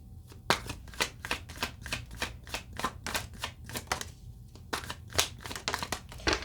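A deck of tarot cards being shuffled by hand, a steady run of crisp riffling bursts close up, repeating about twice a second with brief pauses between, and no voices.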